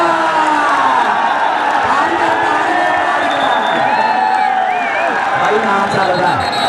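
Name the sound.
crowd applauding and cheering at a match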